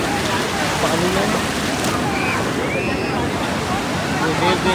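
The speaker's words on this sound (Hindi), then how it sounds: "ये वेव देख लो" Ocean waves break on a Goa beach in a loud, continuous wash of surf with sloshing water, close by and steady throughout.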